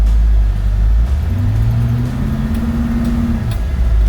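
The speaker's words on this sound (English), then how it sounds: "Oh, here comes another truck." A truck passes close by a workshop on a dusty road, a loud, heavy low rumble whose engine tone climbs and then fades slightly as it goes.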